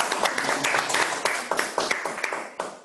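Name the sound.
applause for the technical team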